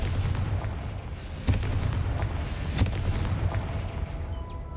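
A Confringo fire spell explodes in the Hogwarts Legacy video game, a deep booming blast over a constant low rumble, with a second sharp hit a moment later, loud and close, with no voices.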